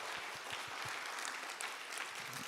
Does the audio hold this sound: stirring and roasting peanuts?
no